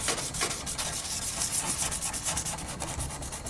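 Sandpaper of 600 grit rubs lightly and quickly over a plastic tail light lens, a close, soft, steady series of rasping strokes.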